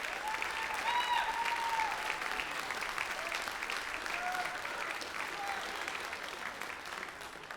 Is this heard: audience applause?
yes